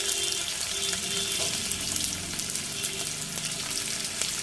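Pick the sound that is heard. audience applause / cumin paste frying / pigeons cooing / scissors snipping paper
cumin paste frying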